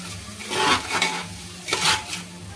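Washed rice, red lentils and mung dal being stirred and sautéed in a pot for khichdi, with two bursts of scraping stirring over a low sizzle, close up with no talking.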